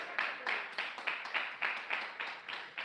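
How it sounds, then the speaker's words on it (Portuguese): Inside a church during a prophetic sermon, a congregation claps in a steady rhythmic beat, about ten even claps heard at a moderate distance with no talking over them. "Palmas de vitória."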